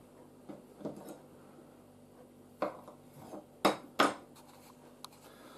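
A knife cuts through large roast potatoes on a board, giving a few sparse knocks and clicks of the blade meeting the surface, with quiet pauses between cuts.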